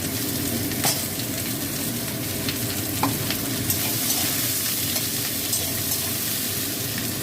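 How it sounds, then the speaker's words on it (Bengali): Thinly sliced potatoes and onion fry together in a pan, giving a steady close sizzle. Scattered light clinks and scrapes come from stirring. "আলুর সাথে পেঁয়াজটা আমি একসঙ্গে ভেজে নেব।"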